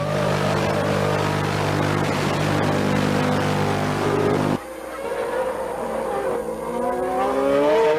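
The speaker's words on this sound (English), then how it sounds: "here we see from the cockpit of Berger's McLaren, we get a good, tremendous view of the back of Nelson Piquet's car" Onboard a McLaren Formula One car at Interlagos, the engine drones loud and steady with dense harmonic tones, then drops abruptly midway and rises again in sweeping pitch changes as it revs back up, heard alone without talk.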